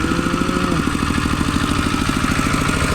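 A farm tractor, a plough vehicle in a Phu Thai village in Thailand, runs nearby with a fast, regular chugging engine pulse at steady loudness, and people talk faintly in the background.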